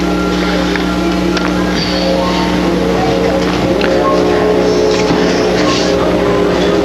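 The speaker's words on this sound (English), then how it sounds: "This is the engine to a 1905 Oldsmobile" A 1905 Oldsmobile single-cylinder engine runs with a steady drone, low hum and faint rattling, continuously at moderate volume with no voices.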